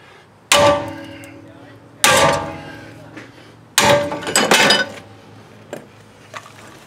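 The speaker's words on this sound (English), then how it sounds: "put this pipe wrench on here and then hit it with a sledgehammer" A sledgehammer strikes a pipe wrench clamped on a Jeep Grand Cherokee steering knuckle during a stubborn wheel bearing removal, giving three loud ringing metal clangs with a rapid cluster after the third, then two faint taps.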